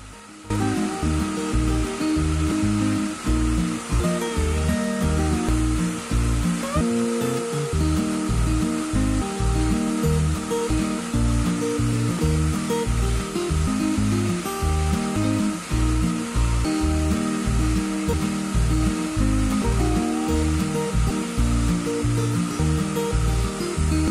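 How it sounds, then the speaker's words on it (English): A tape extrusion line producing polypropylene tape for woven bags runs in a factory, a dense steady mechanical roar with a rapid rhythmic thumping pulse throughout, loud and continuous with no voices. "This machine line known as tape extrusion line,"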